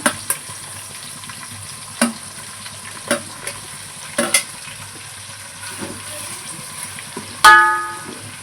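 Onion, garlic and tomatoes frying for aloo dum biryani, a soft steady sizzle broken by sharp clinks and scrapes of a spoon stirring the pan, ending in a louder clatter, with no talking.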